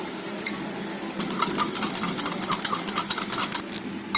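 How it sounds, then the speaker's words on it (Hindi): A whisk beating curd batter for a homemade birthday cake in a bowl: quick, rhythmic clinking strokes up close, fairly loud and steady, with no voices. "मैं विस्कर का इस्तेमाल कर रही हूँ"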